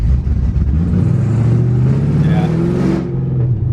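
A 500HP Pontiac GTO's engine revs hard during a launch, a loud rising roar that holds for about three seconds before dropping off, with brief voices underneath.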